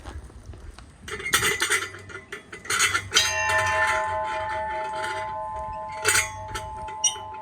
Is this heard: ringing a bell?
yes